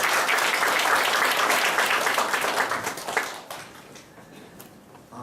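Steady applause from a church congregation during a Sunday service, many hands clapping together, loud at first and then thinning out toward the end.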